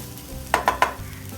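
A spoon scrapes three quick times across a pan of sweet potato stir-fry, close and crisp, over a low, quiet background hiss.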